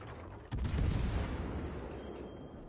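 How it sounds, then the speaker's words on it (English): The battleship Georgia fires its main guns in World of Warships: Legends: one sudden heavy boom, then a long rumbling decay that slowly fades. "Now, of course, the Georgia shoots me."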